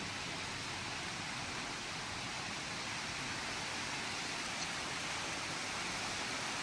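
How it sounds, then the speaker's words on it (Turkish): Steady rain falls outdoors in Germany, a soft, even hiss that holds without a break and with no voices over it. "Yağmur başladı Almanya'ya."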